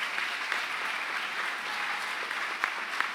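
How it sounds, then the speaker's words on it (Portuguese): A church congregation applauds during a worship service, steady dense clapping that continues evenly for several seconds without speech. "Aplauda ao Senhor. Bem forte,"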